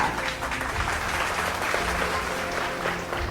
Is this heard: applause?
yes